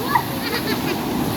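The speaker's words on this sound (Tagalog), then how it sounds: "Grabe, oh. Waterfalls." A waterfall at a riverside campsite in Tanay, Rizal splashes and rushes continuously, a close, full wash of water with voices faintly mixed in.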